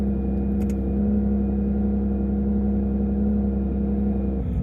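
A Porsche 911 GT3 RS (992) engine starts and idles loud and close with a deep, steady rumbling hum that holds throughout and dips slightly at the very end.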